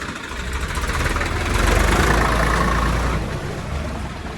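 Swaraj and Mahindra tractors in a tug-of-war contest, with a tractor engine idling close by in a loud, steady diesel rumble that swells briefly mid-clip, no voices heard.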